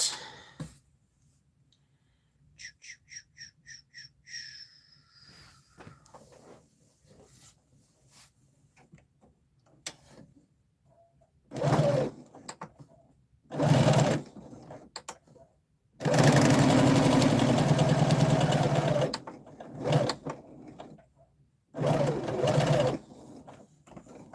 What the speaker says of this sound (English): We need to sew our shoulder seams together first. So I'm going to do that very quickly.